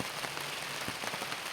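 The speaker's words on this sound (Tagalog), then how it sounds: "kanina napakainit, tapos ngayon umuulan." Rain patters down steadily outdoors near a hut, an even hiss with a few sharper nearby drops, at moderate volume and with no speech.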